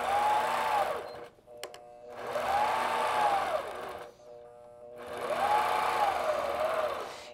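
A longarm quilting machine stitches in the ditch with ruler work, humming in three sustained runs with a rising and falling whine, separated by short pauses and a few clicks.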